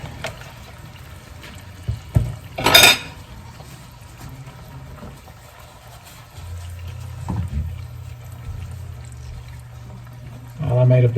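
Heavy cream pours into a hot steak pan in a short splashing gush, followed by low sizzling and a few clinks, with a person talking nearby throughout.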